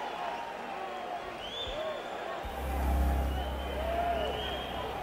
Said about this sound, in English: This crowd anticipating the entrance of Vinny Pazienza